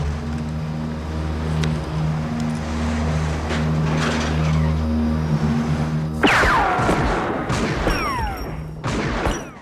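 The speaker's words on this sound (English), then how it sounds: "Friedkin clearly wanted to top his French connection, and the car chase proves it" Car chase from the film To Live and Die in L.A.: a steady engine drone gives way to a sudden burst of crashing, screeching tires and impacts, followed by more skidding and collisions, loud and chaotic.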